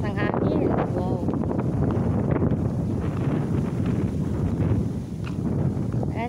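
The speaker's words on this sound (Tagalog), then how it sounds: "Lakas ng hangin." Strong wind buffets the microphone in a steady roar while a voice talks through it, at the seaside in Ma On Shan, Hong Kong.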